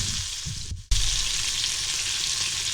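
Clam necks pan-frying in a hot skillet make a steady, close sizzle and hiss, cut by a brief moment of near silence before the frying noise returns at full strength, with no voices.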